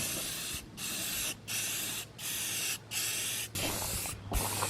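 Aerosol spray paint goes on as the first coat on a PT Cruiser GT intake manifold: a loud close hiss in five bursts of about half a second to a second each, separated by short pauses.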